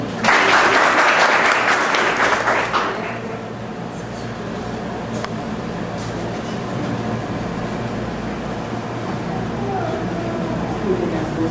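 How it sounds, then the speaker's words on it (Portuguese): A loud burst of audience applause at a live gift-giving event, dense clapping for a few seconds that then drops into a lower, sustained crowd murmur and scattered claps. "Palmas."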